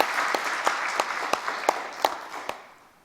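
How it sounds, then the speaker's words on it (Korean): A church congregation claps in blessing during an early-morning prayer service, steady dense applause from a crowd with scattered sharper claps standing out, fading toward the end. "다시 한번 축복의 박수 부탁합니다."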